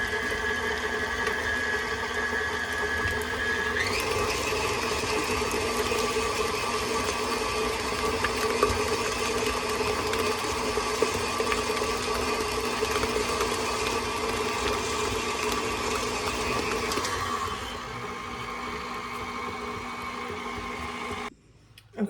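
Electric mixer creaming butter and sugar for sugar cookie dough, a steady motor whir with a pitch shift partway through, running loud and continuous before easing slightly near the end.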